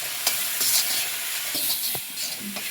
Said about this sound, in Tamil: இஞ்சி பூண்டு பேஸ்ட்டு நல்லா வதக்கிடலாம்